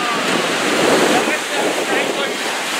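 Ocean surf and gusting wind at a beach during a wedding celebration, a steady loud wash of waves with wind rumbling across the microphone, continuous for the whole stretch.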